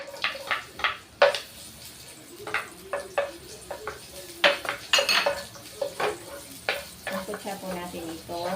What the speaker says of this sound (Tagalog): Gigisa na po natin.